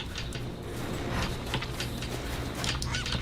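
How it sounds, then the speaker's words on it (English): Bird call in the video game Rise of the Tomb Raider, a honking, fowl-like cry that repeats a few times over a steady ambient game background, moderately close and not loud. "Bird."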